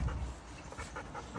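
A dog panting in rapid rhythmic breaths, close and moderately loud, with a low rumbling background throughout.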